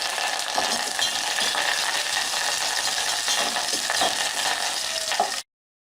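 Dry red chillies and curry leaves fry in hot oil for a dal rasam tempering, giving a steady, close, fairly loud sizzle that holds evenly for about five seconds before cutting off, with no voices.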